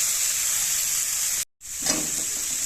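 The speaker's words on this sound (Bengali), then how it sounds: "শাকটা আমি একটু এভাবেই ভালো করে ভাজা করে নেব" Water spinach (kalmi greens) frying in a pan, a loud steady sizzling hiss, cut by a brief silent gap before the sizzle resumes.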